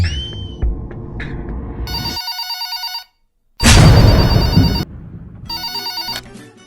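A telephone at a police station rings in repeated bursts, each trill a run of short electronic pulses, separated by brief gaps and a moment of silence, with a loud thump-like noise between rings and no talk.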